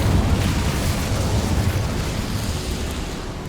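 A roaring burst of the Incendio fire spell in Hogwarts Legacy, a dense fiery whoosh with a low rumble that stays loud and sustained for a few seconds before easing slightly.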